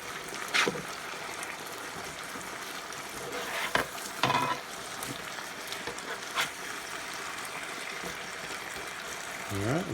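Chicken breast with celery and other vegetables sautéing in a pan with garlic and onion marinade, a soft steady sizzle broken by occasional scrapes and clinks of stirring, fairly quiet and close.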